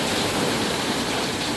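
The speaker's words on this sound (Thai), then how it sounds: "ฝนตกเหมือนฟ้ารั่วเลยค่ะ ดูความรุนแรงของฝนนะ" Very heavy rain pours down in a dense, steady roar that fills the whole moment evenly, loud and close with no breaks and no voices.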